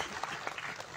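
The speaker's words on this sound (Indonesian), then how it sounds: "tepuk tangan untuk Mas Asaf." Applause from an audience at a film press conference and screening, a brief dense patter of clapping at moderate level filling the whole moment.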